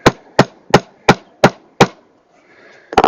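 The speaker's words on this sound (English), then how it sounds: "you can always use a wooden wedge and just tap it in" A wooden wedge is tapped against a deck board in six evenly spaced, sharp wooden knocks, close and clear, followed by a brief pause and a faster flurry of taps at the end.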